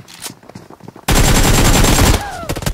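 Dense, loud burst of automatic gunfire in a shooting video game starts abruptly after a second of quieter talk and runs to the end, with a rising whine near the close.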